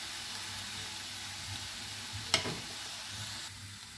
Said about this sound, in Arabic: البصله درنا واحد دقيقه ولا جوج، ضفنا عليها الفلفله حتى هي دقيقه ولا جوج غير كيتشحروا معنا